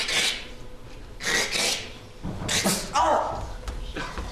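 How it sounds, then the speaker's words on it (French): A metal saw for wood rasps in a live improvised theatre performance, with four or five distinct back-and-forth strokes separated by short pauses, close and fairly loud. "Une belle scie pour bois en métal."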